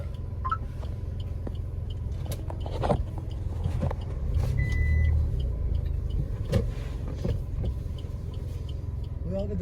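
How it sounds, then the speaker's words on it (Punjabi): A car ride gets under way in Mumbai, with a low steady engine and road rumble inside the cabin, a few clicks and knocks, and faint voices now and then. "ਇਹ ਆਪਣੀ ਸਟਾਰਟ ਹੋਣ ਲੱਗੀ ਰਾਈਡ"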